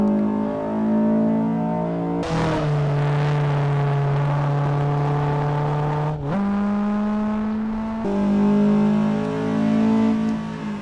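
A Honda Civic Type R on a track lap, its engine droning steadily at high revs with clear gear changes and brief lifts, loud and close throughout with no talk.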